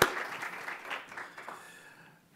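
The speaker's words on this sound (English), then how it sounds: "and please join me to applaud," An audience at an architecture open lecture breaks into applause that starts with a sharp burst and then gradually tapers off to near silence.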